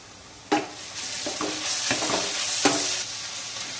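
Ginger and garlic frying for chicken roast crackle loudly and steadily in a pan, broken by several scraping stirs and one sharp knock of the spoon against the pan.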